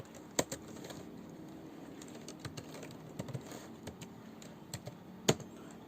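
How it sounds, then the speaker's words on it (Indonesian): Code is typed on a computer keyboard in quiet, irregular clicks, some keys struck louder than others, close by over faint room hum. "pertama dengan cara kita mengetik code"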